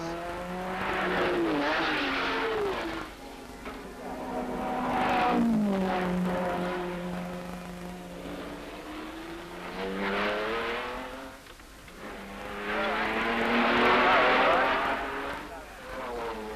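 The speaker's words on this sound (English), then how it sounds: "here's Bob Grossman's GT Ferrari, Manard on the third Spitfire and Colin Davis's Porsche" Race cars, including a GT Ferrari, a Triumph Spitfire and a Porsche, roar past one after another at the 1965 Le Mans 24 Hours, engines rising and fading in long sweeps as a commentator talks over them.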